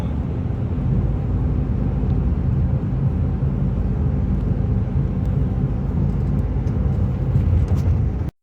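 A Nissan Titan truck's engine drones loud and steady while towing a trailer uphill, a continuous low rumble with road noise that holds for about eight seconds before cutting off abruptly.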